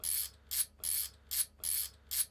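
A ratchet clicks in quick alternating bursts, six rapid buzzy runs in a steady back-and-forth rhythm, close and clear.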